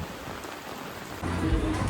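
Steady heavy monsoon rain pours down on an outdoor wedding, a constant dense hiss that grows heavier and louder partway through.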